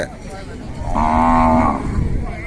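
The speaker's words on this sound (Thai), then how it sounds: "วัวหางแย่พี่น้องวัวหางแย่" A cow at a cattle trader's place in Si Sa Ket, Thailand, gives one loud, drawn-out moo lasting about a second, close by, over a low background murmur.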